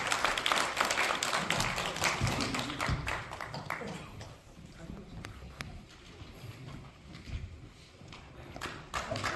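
An audience claps to welcome a speaker to the podium at a civic gathering, with loud, crisp, uneven clapping that ebbs in the middle and swells again near the end, while voices talk underneath.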